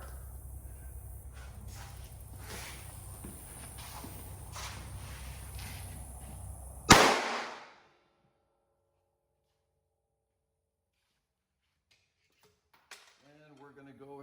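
An AR rifle barrel held in a power-switched test fixture fires a single sharp, loud round after several seconds of clattery handling noise, followed by a short ringing tail, near silence, and a brief voice at the end.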